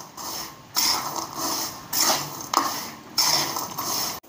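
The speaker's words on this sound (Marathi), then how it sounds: "अजून थोड्या वेळा हे असं तुम्ही भाजून घेणार आहे." Salted peanuts being roasted and stirred in a pan at home, with scraping, rattling bursts of the nuts shifting against the metal, coming in several separate strokes with brief quiet gaps between them.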